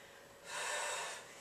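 A single strong breath during a yoga class, a brief soft rushing exhale that swells and fades in a quiet room.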